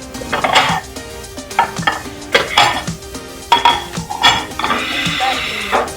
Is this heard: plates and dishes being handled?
yes